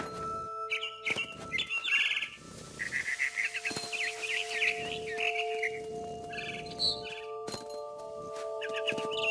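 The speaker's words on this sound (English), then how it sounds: "Then I heard chirping outside my window. It was a barn swallow going back to her nest." A barn swallow chirps in the What Remains of Edith Finch video game, with busy bursts of quick high tweets and twitters repeating throughout over soft sustained music.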